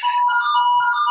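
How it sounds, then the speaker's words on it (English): A short electronic doorbell chime rings once, bright and clear, sustained tones lasting about a second indoors. "The doorbell's just ringing."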